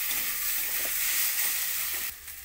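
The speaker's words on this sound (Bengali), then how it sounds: "সসটার সঙ্গে সবজিগুলোকে মিশিয়ে নেব।" Mixed vegetables stir-frying in a pan with tomato and soy sauce for homemade chow mein give a steady, close, dense sizzle throughout, easing slightly near the end.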